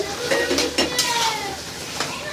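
Chicken kosha is stir-fried in a pot, with a loud close sizzle under repeated metallic clanks and scrapes of a spatula against the pot, and no one speaks.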